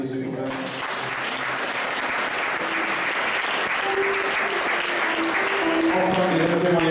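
A church congregation applauds continuously, a dense steady clapping that swells slightly toward the end, with voices calling out over it.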